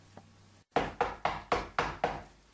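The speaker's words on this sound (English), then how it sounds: "Hark, how they knock." Five firm, evenly spaced knocks on a wooden door ring out close and loud, each with a short hollow decay, after a faint tap and a brief silence.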